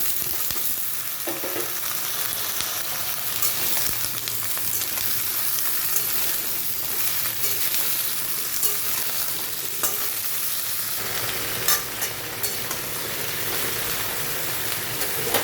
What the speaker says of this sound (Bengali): তো পটল আলু ভাজার জন্য